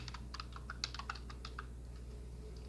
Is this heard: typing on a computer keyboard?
yes